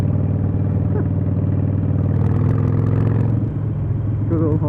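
A Harley-Davidson Iron 883 motorcycle rumbles with a deep, steady engine drone while being ridden, close and loud throughout, with someone talking over it.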